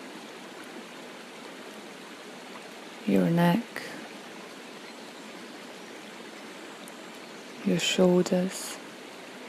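Water from a waterfall falls onto a rock below, giving a constant soft rush, while a calm voice speaks briefly twice over it.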